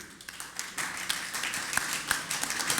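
An audience at a city council meeting in Hazleton claps in a brief, scattered round, light and somewhat distant, with room noise behind it.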